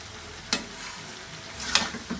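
Meat frying in a pan makes a steady, close sizzle. Two or three sharper scraping bursts of stirring cut through it. No one speaks.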